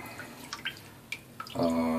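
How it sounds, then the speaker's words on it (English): Water splashed by hand onto a dry, hard bar of birch tar soap, giving a brief wet splash and dripping near the mic before a louder watery rush at the end. "just going to throw a little bit of water on it"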